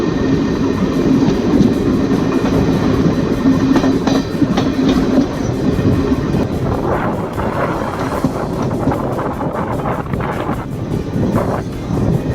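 A nearly empty passenger train runs on rails from Dhasa toward Dhola, rumbling loudly and continuously with rhythmic clickety-clack and wind noise, no voices.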